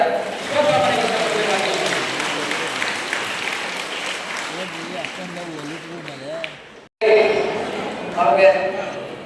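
A crowd claps at a temple kalyanotsava celebration on a hill, the applause steady for several seconds, then briefly cut off and resuming, with a voice talking over it.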